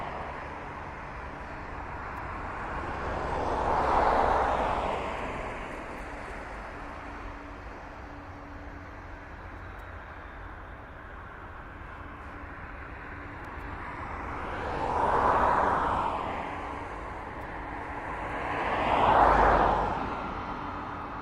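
Jet aircraft engines from a DHL cargo plane taxiing at East Midlands Airport, a steady distant roar with three louder swells as the plane passes or turns, no talk.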